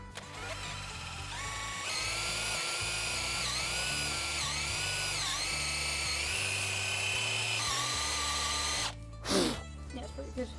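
High-pitched whine of a power drill boring a hole through a candle holder held firm on a table, running in long sustained bursts with pitch shifting as it loads up, then a brief pause and a short clunk.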